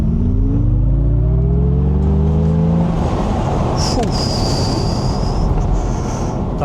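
An MG Cyberster GT electric sports car launches hard in launch mode, a rising electric motor whine sweeping upward over loud road and wind roar, followed by a high steady tone as speed builds.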